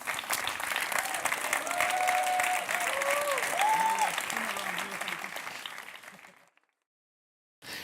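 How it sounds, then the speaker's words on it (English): A gala audience at the European Youth Award 2014 claps for the winners, with sustained dense applause and a few cheers filling the hall for about six seconds before it cuts to silence, then briefly resumes. "Let's have a big round of applause for the winners."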